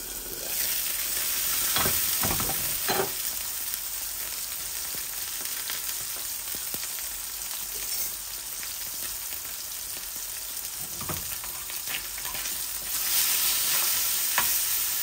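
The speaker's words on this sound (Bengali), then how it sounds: "আমি গ্যাসের ফ্লেমটা একদম কম করে রেখেছি। আস্তে আস্তে এটা ভাজা ভাজা হোক।" Garlic fries slowly in a pan over a very low gas flame, producing a continuous soft sizzling hiss with a few scraping stirs scattered through, heard alone without any talking.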